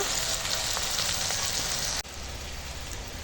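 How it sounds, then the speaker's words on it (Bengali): Onion and green chillies frying in oil left over from frying fish, a close, constant hissing sizzle with crackles that drops briefly in level partway through, then carries on. "মাছ ভেজে তুলে নিয়ে ওই তেলে পেঁয়াজ আর কাঁচা লঙ্কা দিয়েছি এটা আগে একটু ভেজে নেব"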